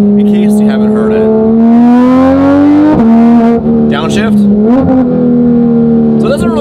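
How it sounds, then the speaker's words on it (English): Porsche 3RS with a JCR exhaust heard from inside the cabin, its engine holding a loud steady drone, then a sharp downshift blip around the third second and another rev swell later, with occasional speech over it. "So here's how the 3RS sounds inside with the JCR exhaust"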